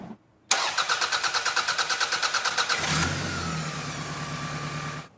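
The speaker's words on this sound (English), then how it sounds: "it simply cranks forever before it actually starts and gets going" A car engine that cranks too long before starting: steady rhythmic whirring cranking for a couple of seconds, then it catches and settles into a smooth idle, close and loud.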